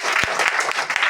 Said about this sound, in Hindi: एक बार ताली भी बजाइए